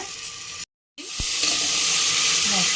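Mushroom masala with coriander, garam masala and cumin powders sizzling lightly in a pan, a steady close frying hiss with a brief cut-out and a stirring clatter.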